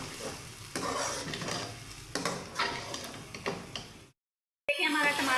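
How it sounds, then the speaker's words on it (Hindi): Potato curry masala sizzles and fries in a pan while being stirred, with steady frying hiss and repeated scraping strokes, broken by a short silent gap before the sizzle resumes loudly. "अब हम इसको अच्छे से भूनेंगे"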